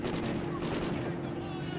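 Rapid gunfire in Call of Duty, a short burst of close, crackling shots with muffled game noise underneath and no clear pauses.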